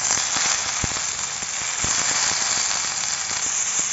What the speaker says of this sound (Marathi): आता आपण कांद्याला घेणार आहोत काढून आणि टाकणार आहोत टोमॅटो